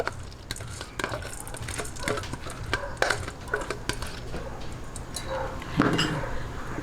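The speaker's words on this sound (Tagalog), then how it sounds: "Ito po, syempre, hahalo-haluin natin yan." A utensil scrapes and knocks inside a pot of glutinous sticky rice in an uneven stirring rhythm, with soft clacks over a low background hum, while cooking Kapampangan bringhe.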